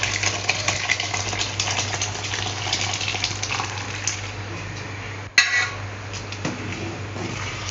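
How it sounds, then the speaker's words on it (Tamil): Cooked toor dal being tipped into a pot of vegetables for sambar, with soft wet glops, metal pot and ladle clinks, and a steady background hum throughout. "இப்போ நம்ம பருப்பை இந்த காய்களோட சேர்த்துக்குவோம்"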